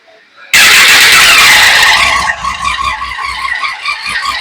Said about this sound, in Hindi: अभी हम लोग बाइक स्टार्ट करने जा रहे हैं।